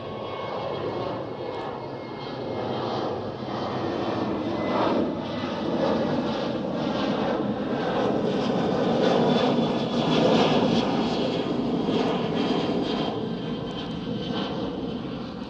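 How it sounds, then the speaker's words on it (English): A Qatar Airways Boeing 787 Dreamliner roars at Manchester Airport, its jet engines a broad rushing drone that swells toward the middle and holds steady, fairly distant and with no talk over it. "Qatar Dreamliner."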